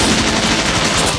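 Rapid machine gun fire in the video game Bot Vice, a dense, loud continuous burst of shots with no pauses over a short stretch.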